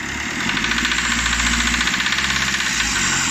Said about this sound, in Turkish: Aracımızın bize geliş şikayeti motor şakırtısı.